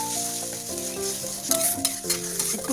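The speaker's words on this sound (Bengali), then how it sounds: "এবারে জল দিয়ে দেবো।" Water is poured into spiced masala frying in oil for a hilsa curry, a close sizzle and stirring that swell into louder bursts of hissing partway through.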